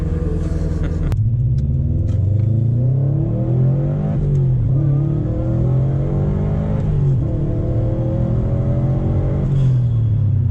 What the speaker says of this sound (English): Turbo noises.